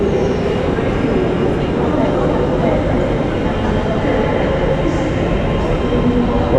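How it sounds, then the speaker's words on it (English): A London Underground train at Paddington station, heard as a loud continuous low rumble and roar of rail cars filling the platform space, steady throughout with faint metallic squeals layered on top. "let's look at this Paddington station"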